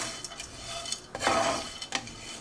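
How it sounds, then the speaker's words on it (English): Seeds, shredded coconut and oats toasting in a dry pan, giving soft scraping and stirring clatter with a brief louder rustle midway, close and fairly quiet with no talking. "in the same pan, I'm going to toast the seeds, coconut, and the oats"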